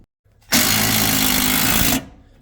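A power driver runs hex-headed self-tapping screws into a battery mount, one loud continuous rattling burst of about a second and a half, close up, after a short quiet pause.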